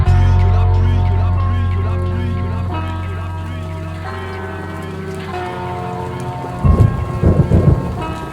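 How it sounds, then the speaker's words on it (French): Rain and thunder effects in a French rap song, a low rumbling wash with steady rainfall texture layered under the music throughout, and louder bursts of rumble near the end. "J'entends tout le reste mais j'écoute que la pluie."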